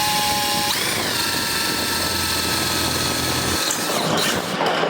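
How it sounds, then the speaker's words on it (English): A power drill bores a hole in chimney sheet metal with a loud, continuous high-pitched whine whose pitch dips and shifts as the bit bites through, ending in a rougher grinding burst. "we're gonna have to get us a hole drilled in this thing here somewhere."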